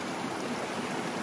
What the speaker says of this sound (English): There's a lot of water flowing over these rocks.